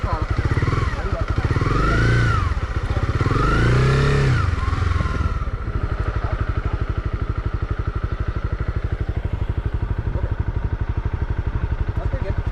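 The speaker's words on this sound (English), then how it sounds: "go ahead and just a little throttle, little throttle, little throttle, little throttle" A Honda CB300R motorcycle engine is blipped with light throttle, rising and falling in a few short revs before settling into a steady, close idle, with voices talking over it.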